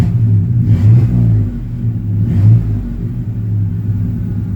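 A 1994 Chevy C1500 Sport pickup's engine runs close by with a steady low rumble, swelling briefly twice as it is revved, with no talking over it.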